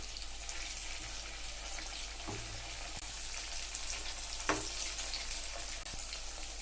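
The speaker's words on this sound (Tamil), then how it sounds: "இப்போ எறாவை எண்ணெயில் விட்டாச்சுங்க" Prawns frying in hot oil for a prawn 65 fry, giving a steady, even sizzle throughout with a couple of brief clinks from utensils, close by and with no talking.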